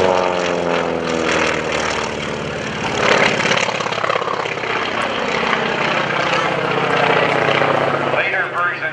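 An FM-2 Wildcat propeller fighter passes at an airshow, its engine a loud, rough, wavering roar that swells and fades, with an announcer talking over it throughout.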